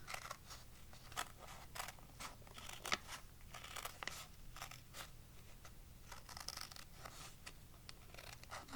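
Scissors cut paper strips close up, a series of quiet, crisp snips and crunches in an irregular rhythm, with no voices.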